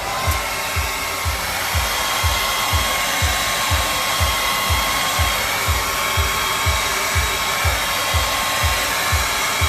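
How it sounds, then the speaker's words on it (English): A hair dryer blows steadily on an airbrushed shirt, producing a loud, continuous rushing whir with a fast, even low pulse throughout and no talk. "the thing I do is I blow dry this thing before I do the white highlights"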